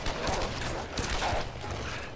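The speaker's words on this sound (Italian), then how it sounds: "Sento degli spari." Rapid bursts of distant gunfire in the video game Tomb Raider rattle continuously for a couple of seconds, with mechanical clatter mixed in; no voices.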